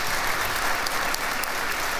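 Steady audience applause for Illinois Governor Bruce Rauner at a student laureate convocation, dense and continuous clapping from a large crowd filling the full two seconds at an even level.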